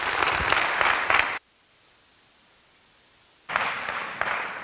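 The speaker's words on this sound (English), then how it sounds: "So, we're allowed to clap." Applause at a chapel service welcoming Zach Leslie, in two loud bursts split by roughly two seconds of silence.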